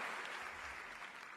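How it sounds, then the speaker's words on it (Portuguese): Church congregation applauding during a worship service, a steady dense wash of clapping that stays quiet and distant for the whole stretch, with no pauses. "aplaude com vontade, aplaude com vontade."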